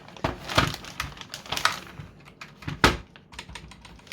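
Irregular bursts of clicky keystrokes on an MSI GK30 gaming keyboard, heard close with uneven rhythm and short pauses, with no talk over them.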